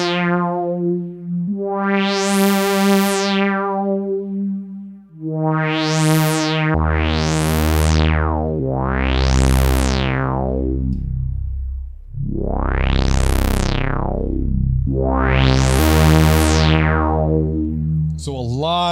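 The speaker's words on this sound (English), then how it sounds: "This is how we can create like a filter sweep type sound automatically." Resonant analog synthesizer notes with repeated filter sweeps, each rising bright and squelchy then falling with envelope and release, play one after another at a steady moderate loudness with no speech over them.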